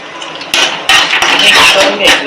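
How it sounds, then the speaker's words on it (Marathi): A spoon stirs red-sauce pasta ingredients, including Schezwan chutney and mayonnaise, in a bowl, giving loud, close clinking and scraping that comes in bursts of clatter, with no voice over it. "मिक्स करून घ्यायचं छान सर्व."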